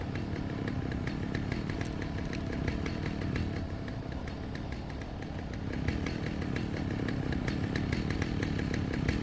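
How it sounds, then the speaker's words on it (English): A chainsaw in the Alan Wake video game runs continuously, a loud, steady, buzzing roar that holds for the whole stretch with slight surges in intensity and no voices. "Why don't we try to avoid the chainsaw sound?"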